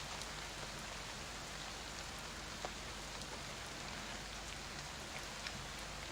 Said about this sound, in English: but when it does rain, it comes down hard.